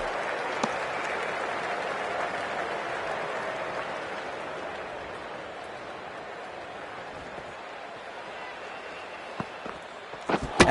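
A crowd in a PS5 cricket video game, India versus Pakistan, applauds a big hit with a steady wash of clapping and cheering that gradually fades over about ten seconds, ending with a few sharp clicks.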